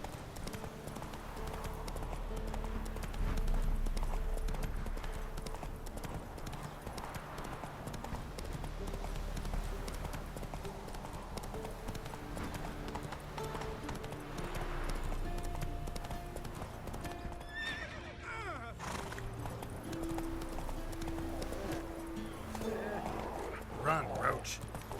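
Roach, a horse in The Witcher 3, gallops with a steady, rhythmic clip-clop of hooves that runs the whole time, mixed under game sound and a voice talking.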